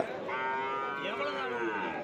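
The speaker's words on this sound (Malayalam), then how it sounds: "നല്ല അടിപൊളി ഒരു പോത്ത് തന്നെയാണ്" A buffalo at a livestock market lets out one long, loud, droning moo, close by, against faint background noise.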